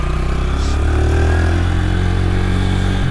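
An Astor Orcal 125 motorcycle on a road test gives a loud, close, continuous engine drone with a steady low hum and slight rises in pitch, and no one speaks.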